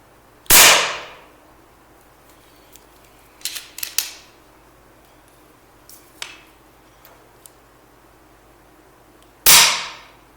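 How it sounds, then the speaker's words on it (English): Two sharp, loud cracks from an unsilenced FX Impact air rifle fired outdoors, one near the start and another near the end, with a few faint clicks and handling sounds between them. "Now I'll shoot a shot unsilenced, not moderated."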